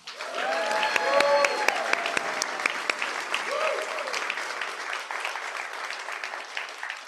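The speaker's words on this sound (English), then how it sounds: "Anna has earned that applause" Audience applause for former Congresswoman Anna Eshoo at a Palo Alto civic celebration honoring Joe Simitian, a dense, sustained crowd clapping that swells early and then holds steady, with a few voices calling out over it.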